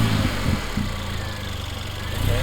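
A Mercedes CLA45 AMG engine fitted with a K&N air filter idles at a standstill, a steady low rumble with slight pulsing, fairly close and continuous throughout.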